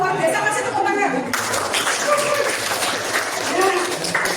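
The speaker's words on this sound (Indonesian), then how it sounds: "masih tepuk tangan" Classroom audience applauding, a lively patter of many clapping hands mixed with chatter and light laughter, steady and close throughout.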